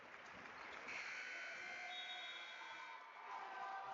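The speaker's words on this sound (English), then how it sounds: "And the buzzer stopped." A loud, harsh buzzer drones continuously across a basketball tournament arena, with no talking over it.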